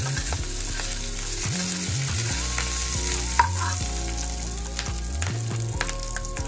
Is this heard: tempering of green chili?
yes